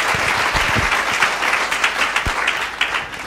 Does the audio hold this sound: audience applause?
yes